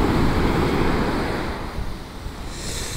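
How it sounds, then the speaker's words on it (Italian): Sea waves break on the shore in Calabria in a steady, broad wash of surf, close by and fairly loud, with wind buffeting the microphone and no talk. "Ci sono le onde pure in Calabria."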